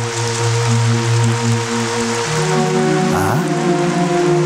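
Steady, heavy rain hisses continuously with a low droning hum underneath, no voices.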